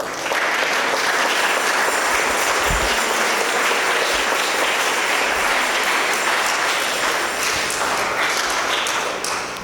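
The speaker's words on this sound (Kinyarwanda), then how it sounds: "Ndagira ngo munize amashyi dushimire Imana tubanye natwe" A church audience in the Archdiocese of Kigali breaks into loud, sustained applause of thanks to God, dense clapping that continues steadily throughout with no break.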